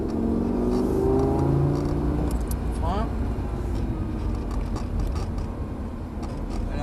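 Car accelerating gradually out of a corner on a race track, a steady in-car engine drone rising under continuous talk, with a whine sweeping up partway through.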